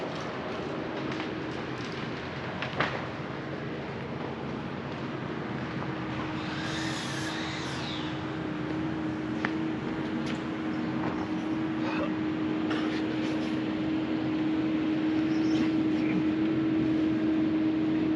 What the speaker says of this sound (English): somebody's running a skid steer